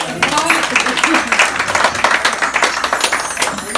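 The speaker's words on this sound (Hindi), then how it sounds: "एक बार साडे ढोली लिए एक बार जोरदार तालियां जरा" Loud audience clapping and applause at a Mata Ka Jagran devotional gathering for the dholak player, a dense crowd burst sustained throughout, with some voices mixed in.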